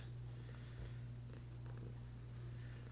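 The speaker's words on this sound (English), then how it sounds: "So you might hear a little bit of purring in the background." Meryl, a pet cat, purring steadily and close, a soft continuous low rumbling with a regular rhythm throughout.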